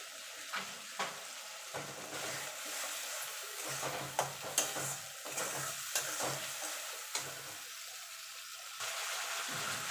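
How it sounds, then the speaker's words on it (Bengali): A spoon stirs tilapia and eggplant curry with mustard in a pan, giving steady scraping and sizzling, soft bubbling, and occasional sharp clinks of the spoon against the pan, close by and alone. "ভালো করে নেড়ে নেব স্বাদ মতো নুন দিয়ে দেবো"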